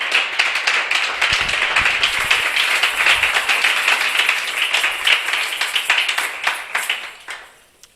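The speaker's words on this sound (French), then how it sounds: "J'aimerais vraiment que l'on rende grâce à Dieu par des acclamations pour dire merci à Dieu pour sa vie" Close, lively clapping from a church congregation at a Christian gathering, a loud steady patter of many hands with a few rhythmic accents, fading out near the end.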